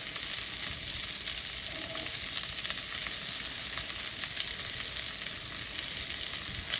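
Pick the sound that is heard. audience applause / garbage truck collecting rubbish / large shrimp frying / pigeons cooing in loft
large shrimp frying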